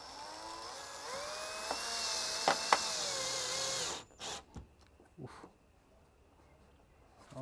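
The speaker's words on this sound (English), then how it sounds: "if you're using a power drill, it goes straight in" A power drill whines steadily as it drives a screw into a workpiece, its pitch rising and falling for about four seconds before stopping, then a few short taps and handling noises follow in near quiet.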